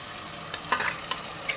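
A spoon stirring tomatoes and spices in a cooking pot for chicken macaroni, a few soft scraping strokes over a quiet background hiss, close and faint with no voices.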